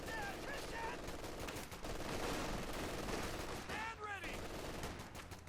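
Rifle and machine-gun fire in the WWII strategy game Company of Heroes 2, rapid crackling shots exchanged at a distance under a commentator's voice, with faint whistling effects briefly standing out.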